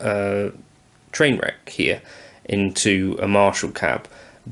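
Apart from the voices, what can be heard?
No everyday noises stand out.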